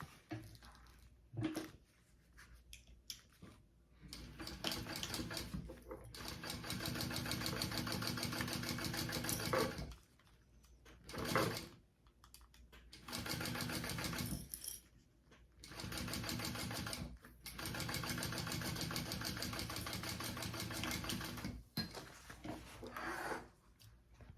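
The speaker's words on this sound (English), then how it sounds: "I'm going to top stitch that" A sewing machine runs several long, steady stretches of top stitching on a crossbody bag, its motor humming close and evenly, broken by short pauses.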